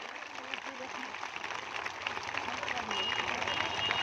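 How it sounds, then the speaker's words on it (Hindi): Crowd applauding at an outdoor political rally for a leader coming onto the stage, a dense, steady roar of clapping that swells slightly toward the end, with voices mixed in beneath. "जोरदार ताली बजाइए अवधेश जी का भाई"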